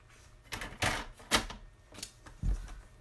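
Sharp snips and slices through paper come as a handful of distinct, uneven bursts while cardstock is trimmed for a card project, close and fairly quiet.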